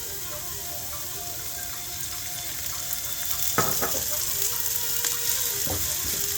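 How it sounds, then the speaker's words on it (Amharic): Onions frying in oil in a pan, a steady broadband sizzle running throughout with a few sharper crackles and stirring clinks near the end; no one speaks. "አሁን ዘይቱንና ሽንኩርቱን እናበስለዋለን ማለት ነው በዘይት።"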